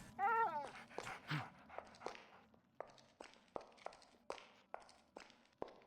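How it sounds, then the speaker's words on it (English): A dog in the video game Arx Fatalis gives a whimpering yip at the start, followed by a steady run of evenly spaced footsteps, fairly quiet overall. "Dog!"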